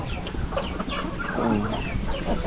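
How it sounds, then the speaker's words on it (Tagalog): A fairly large Darag rooster clucks close by on a Philippine farm, giving short, uneven clucks over a low outdoor background with no one talking. "ito darag yan rooster medyo malaki na ah"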